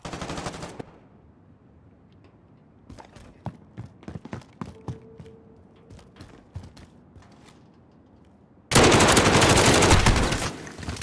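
M16 rifle fire during a Search and Destroy video game match: scattered sharp shots and short bursts crack through a quiet stretch, then give way to a sudden loud, sustained barrage at the end.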